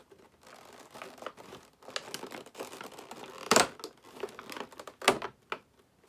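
Plastic packaging around a collectible figure being opened, with crinkling and tearing of plastic and tape, a few sharp loud snaps among softer rustling, close by with no talking.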